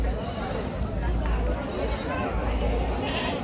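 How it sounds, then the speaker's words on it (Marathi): Young goat kids bleating at a large goat and sheep market in Chakan, thin bleats rising over a dense, steady crowd babble and market noise. "ही सगळी शेळ्यांची पिल्लं आहेत बघा,"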